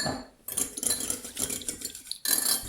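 Whisking a vinaigrette emulsion for a tuna rice salad, a utensil clattering and scraping quickly against a bowl in a steady busy rhythm, close and fairly loud, pausing briefly near the start and again before the end.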